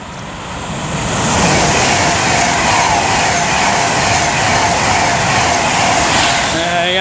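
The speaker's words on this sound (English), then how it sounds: "Now approaching is 390-122 for Avanti West Coast." Avanti West Coast Class 390 unit 390-122 approaching Lichfield Trent Valley on the West Coast Main Line, a steady loud rushing roar that swells within the first second and holds, with a faint high whine at the end.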